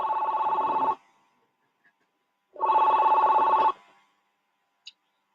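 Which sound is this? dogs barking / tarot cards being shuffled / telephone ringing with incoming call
telephone ringing with incoming call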